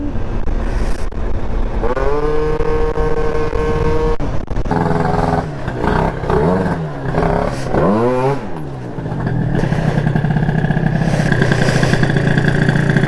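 A stock 49 cc scooter engine runs loud and close throughout, buzzing steadily with several revs that rise and fall in pitch before it settles back to a rough idle.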